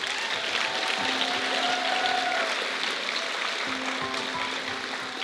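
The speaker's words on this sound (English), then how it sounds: "Let's give them all one more round of applause." Steady audience applause fills the clip at a pageant coronation ceremony, dense clapping from a sizable crowd that continues without pause at an even, fairly loud level.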